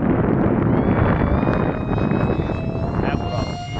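A twin-motor ME163 model aircraft runs at half throttle, giving a loud, steady high-pitched whine with sustained tonal motor lines over gusty, rough wind noise at close range.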